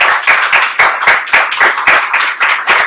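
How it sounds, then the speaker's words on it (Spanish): Applause for invited guests, a small group clapping in a quick uneven rhythm, each sharp clap distinct and close, with no talking over it. "Un aplauso para nuestros invitados."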